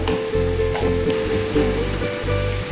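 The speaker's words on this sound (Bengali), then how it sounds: "এবার এটাকে কষিয়ে নেব।" Ground cumin, coriander and turmeric sautéed in a pan for a Bengali fish dish, giving a steady loud sizzle with stirring scrapes throughout.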